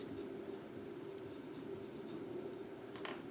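Marker or chalk scratches on a board as numbers are written, faint soft strokes over a steady low room hum, with no talking.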